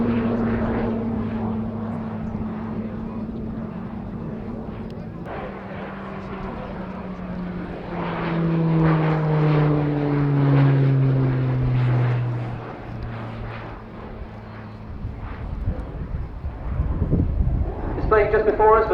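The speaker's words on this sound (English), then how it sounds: "Displaying just before us was the Grub Tutor." Grob Tutor propeller aircraft flying a display, a steady droning engine hum that swells and shifts in pitch as it passes overhead, with a commentator talking throughout.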